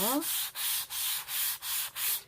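Rhythmic strokes of sandpaper rubbing across wood, six or seven even back-and-forth passes, close and fairly quiet, with no talking.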